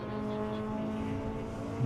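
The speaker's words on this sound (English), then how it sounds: "A pack of cars coming through there as well." A pack of race cars, including a Honda Civic, passing at a regional circuit meeting, engines droning steadily at a distance with a swell of revving at the very end.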